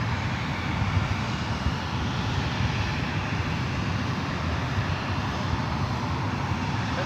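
Steady, loud roar of a jet airliner engine at San Francisco airport, a continuous broadband rumble holding at constant strength throughout with no voices.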